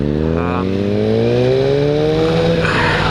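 A 2015 Yamaha R1 sport motorcycle revs up loud and close, its engine pitch climbing steadily through the gears in a smooth rising whine under continuous wind rush.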